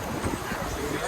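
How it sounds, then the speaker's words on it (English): Strong gusty wind buffets the microphone in a riverside park beside the Hudson River, a steady broadband roar with uneven surges under talk. "It's very, very windy here"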